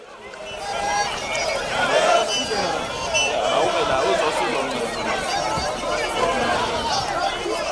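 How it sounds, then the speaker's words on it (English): A crowd of thousands marching in Tembisa, a dense murmur of many voices and shuffling feet, with chanting and shouts at mid distance, steady throughout. "it looked like thousands of people in Tembisa marching"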